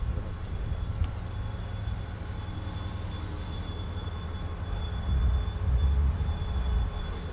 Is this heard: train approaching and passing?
yes